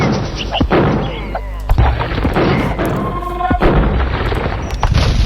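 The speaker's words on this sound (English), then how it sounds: "Skirmishers here being forced back by these cannons" Cannons and trebuchets fire in an Age of Empires II battle, a run of loud booming thuds and impacts packed close together over the game's busy combat noise, with a voice talking over parts of it.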